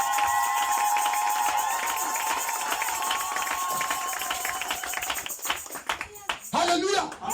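Congregation at a French-language church service clapping and acclaiming the Lord, a dense sustained wash of applause and voices that thins and breaks into scattered louder bursts near the end.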